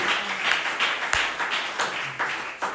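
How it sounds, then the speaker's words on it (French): A crowd at a wedding claps and applauds continuously, with rhythmic bursts of clapping swelling and falling, no voices heard. "Applaudissez pour le Seigneur Jésus."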